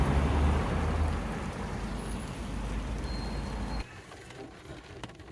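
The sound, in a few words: rain heard from inside a parked car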